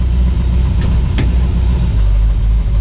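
A 1959 Ford F100 pickup truck is slipped into gear and pulls away, its engine a loud, close, steady low rumble with a couple of brief clicks or knocks near the start, and no voices.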